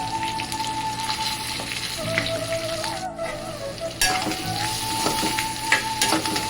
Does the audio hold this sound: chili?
yes